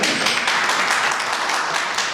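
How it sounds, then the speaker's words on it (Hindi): A crowd at an industrial convention applauds loudly, dense steady clapping from many hands that fills the whole stretch without a break. "मैं जोरदार तालियों से आपका स्वागत करना चाहूँगा"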